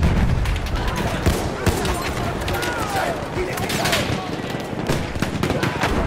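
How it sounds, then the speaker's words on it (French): Rapid machine-gun bursts and scattered gunshots in a video game battle, loud and continuous with rattling volleys and occasional booms, and voices calling out in the mix. "J'ai une mitrailleuse en visuel!"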